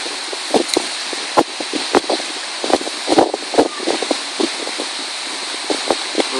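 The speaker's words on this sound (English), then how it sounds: "Too windy" Strong wind blowing across a beach, a steady loud broadband roar with repeated gusts buffeting the microphone in sharp bursts throughout.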